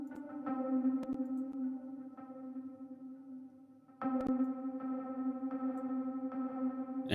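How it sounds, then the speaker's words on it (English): Repeated C synth note run through a PlayStation 1 style reverb effect, a sustained buzzy tone with a hollow echoing tail, struck again several times with sharp attacks, with no talk over it. "Let's go for the PlayStation 1 reverb."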